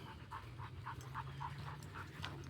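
A dog panting in quick, steady rhythmic breaths at close range, repeating for a couple of seconds over a low background hum, with no talking.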